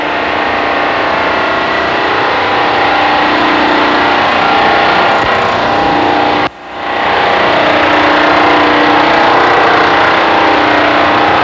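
A main fuel oil pump in an industrial plant runs with a loud, continuous growl from its outboard end, steady throughout apart from one brief dropout partway through.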